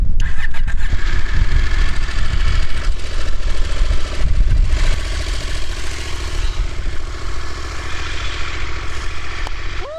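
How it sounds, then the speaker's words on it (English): A motorcycle engine in Tibet's Changtang at -20 °C with a low battery cranks loudly and sputters, struggling to catch, with strong wind buffeting continuously throughout. "The car died after a few attempts to start."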